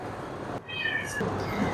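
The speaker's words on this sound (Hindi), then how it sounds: "टूपाक अजीब अजीब अंदाज से म्याऊं म्याऊं कर रही थी" A pet cat named Tupac meowing oddly indoors, one drawn-out rising and falling meow over a steady background hum, close and clear, no talking.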